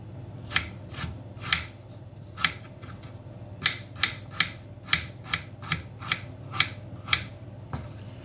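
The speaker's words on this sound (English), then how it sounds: "I'm going to peel these apples and cut them up in small pieces." Apples being peeled and cut into small pieces, with about a dozen sharp knife strokes at an irregular rhythm over a low steady hum, close and clear, with no talking.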